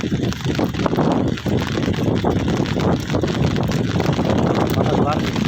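Wind gusts over the Feni River on a stormy night during fishing, a steady heavy roar buffeting the microphone throughout, with someone talking over it.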